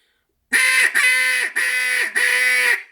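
A duck call is blown with a growling rasp: four loud, close, drawn-out raspy honks in a row, each sustained about half a second with short breaks, and no talk.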